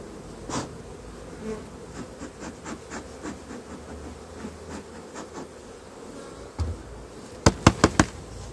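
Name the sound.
honey bee colony buzzing at beehive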